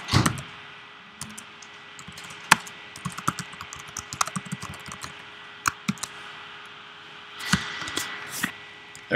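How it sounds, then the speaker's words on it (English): Someone types on a computer keyboard during a programming class, a quiet, irregular patter of key clicks with a few sharper taps, close by and alone, against a low hum. "I'll type it up."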